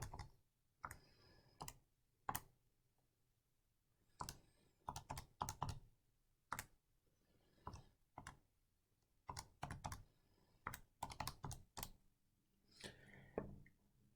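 Irregular bursts of crisp computer keyboard keystrokes, close and fairly loud, arriving in quick clusters with short pauses between them, with no talking.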